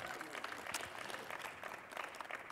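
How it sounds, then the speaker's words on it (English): A church congregation in New Orleans gives a round of applause for their bishop, a fairly faint, continuous crowd clapping with occasional sharper claps and scattered voices under it. "give him a round of applause"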